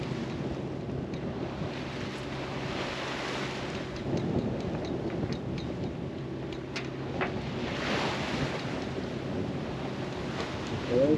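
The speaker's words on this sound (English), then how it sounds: "The waves have slowed down, so it's not as choppy as it was earlier." Waves wash steadily around a sailing boat at sea, mixed with wind rush and occasional splashes and knocks, continuous and moderately loud.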